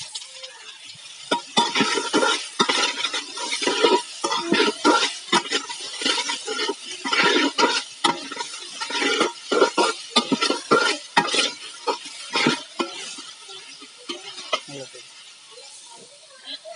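Onions sautéing with salt in a large pan, a bright close sizzle broken by rhythmic bursts of stirring and scraping that come and go in waves, with a brief quiet lull near the end.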